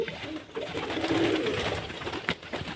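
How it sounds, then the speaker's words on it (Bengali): Pigeons coo softly and continuously at close range, a low throaty murmur from several birds kept in a loft in cold January weather, with no talk. "এদের ডাকছে দেখুন পায়রাগুলো"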